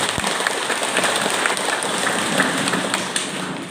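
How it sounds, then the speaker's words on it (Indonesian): Audience applause greets guests from Dubai at an investor community event in Miobar, North Central Timor, a steady dense patter of clapping that holds throughout at even loudness. "Tepuk tangan untuk mereka."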